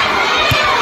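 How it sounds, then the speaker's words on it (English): Schoolboys cheering at a school basketball carnival final, a loud, dense crowd of young voices shouting and chattering together in a brief continuous burst. "SAS boys, they are cheering for our team"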